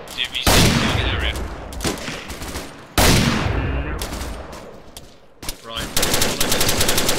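GPMG machine gun fire in the ARMA 3 military shooter, loud sustained bursts of automatic fire in several strings with brief gaps between them, and one short spoken word from a player over the shooting.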